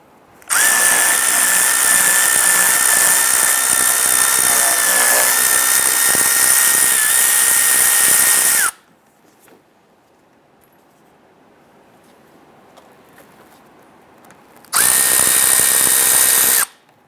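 A power tool loosens bolts on the rear brake of a 2005-2010 Chrysler 300, whirring loudly and steadily for about eight seconds, then a quiet pause before a second shorter burst, close up.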